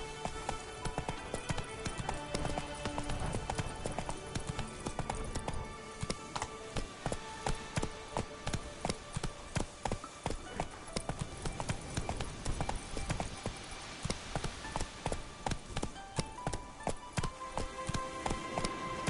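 Roach the horse trotting in The Witcher 3, with rapid rhythmic hoof clip-clops that continue steadily and loudly over a dense game soundscape of music and ambience.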